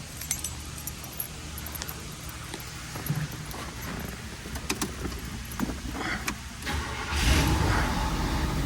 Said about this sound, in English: That is a cold start.